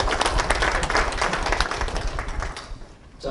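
A crowd at a Korean launch ceremony in Gwangju for the 160th anniversary of Goryeoin and Korean migration claps steadily in a dense, full round of applause that thins slightly at the end.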